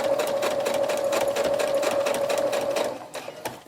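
A sewing machine running a seam along the elastic of a cloth diaper: a steady, close, buzzing whir of fast needle strokes that continues for several seconds, then slows and stops with a few soft clicks.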